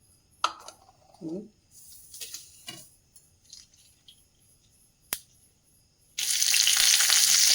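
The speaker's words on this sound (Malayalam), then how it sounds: "ഇതിലേക്ക് കടുക് ഇട്ട് കൊടുക്കാം. കടുക് പൊട്ടുന്നു." Mustard seeds go into hot oil in a kadai for a south Kerala elephant foot yam curry, giving scattered sharp pops over near-quiet and then a loud, steady sizzle that takes over near the end.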